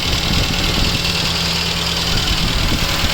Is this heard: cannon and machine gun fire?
no